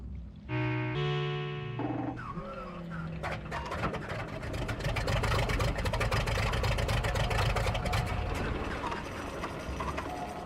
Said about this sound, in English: you love hearing an engine like that before you go to helicopter mode